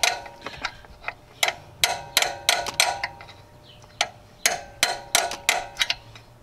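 Sharp metallic hammer taps drive metal sleeves into place on a 2000-2006 Chevrolet Suburban, Silverado, Tahoe or GMC Yukon during alternator work, landing close by in quick, uneven bursts of two and three strikes.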